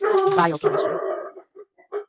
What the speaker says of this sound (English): Excuse my dog barking in the back.